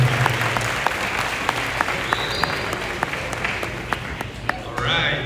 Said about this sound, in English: Please give a warm round of applause to Mr. Karan